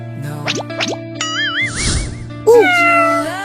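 A cat meows several times in quick succession, close and clear, with a couple of short rising calls followed by a longer wavering meow and a final louder cry over a faint background hum.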